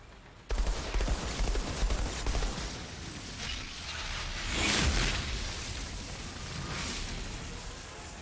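An engineer's turret in the video game Epoch: a dense, steady stream of rapid automatic fire begins abruptly after a short silence and continues without a break, loud and close, swelling briefly midway.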